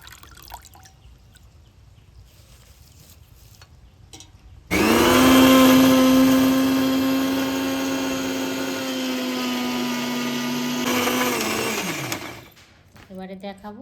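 A mixer grinder jar whirs loudly as it blends neem leaves without water, starting abruptly, holding a strained steady motor drone for several seconds, then winding down, with quiet talk before and after.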